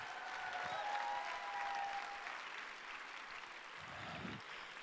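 Audience applause fills a gala fundraiser room during a charity auction, a steady wash of many hands clapping at moderate volume, sustained throughout without speech.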